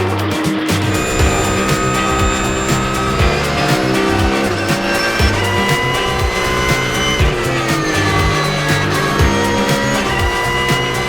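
Race car driven flat out on a circuit during the Barcelona 24-hour race on preheated tires, a loud continuous engine roar rising and falling through gear changes with tire squeal, heard close up from the car.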